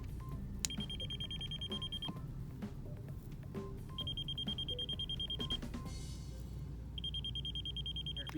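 Three long, high-pitched electronic beeps from a non-contact voltage tester sound in bursts with pauses between, over faint background noise.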